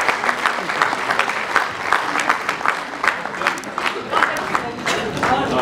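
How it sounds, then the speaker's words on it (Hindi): An audience at a stage event with a poetry gathering claps for a speaker, a steady crowd applause of moderate loudness lasting several seconds without pause. "उनके लिए जोरदार तालियां।"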